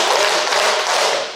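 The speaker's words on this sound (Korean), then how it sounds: "이제 한번 박수를 한번 5번 치겠습니다." A roomful of people at a seminary lecture clap together in a quick, dense burst, close and loud, blurring into one brief rush of claps.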